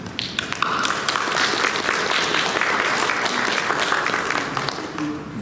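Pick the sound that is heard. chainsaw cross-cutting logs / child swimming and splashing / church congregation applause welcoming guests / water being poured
church congregation applause welcoming guests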